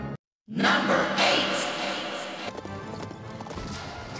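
A horse gallops with rapid clip-clop hoofbeats and a whinny during an Indiana Jones action scene where a rider leaps from the horse onto a tank, loud and busy with crashing film effects.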